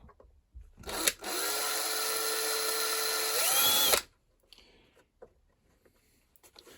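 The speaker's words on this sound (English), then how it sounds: "Let's put a mark on it and drill another little hole." A power drill bores a small hole for a screw while fitting a White Knight tumble dryer. The motor whirs steadily for about three seconds, then its pitch rises briefly before it stops, leaving quiet handling noises.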